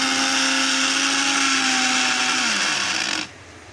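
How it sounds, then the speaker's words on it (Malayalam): An electric mixer grinder with a bullet jar whirs loudly at high speed for about three seconds. Its pitch then sags as it winds down and cuts off, leaving a quiet room. "ഒരു മിക്സിയാണ്"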